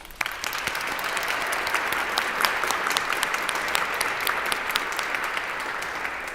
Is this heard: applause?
yes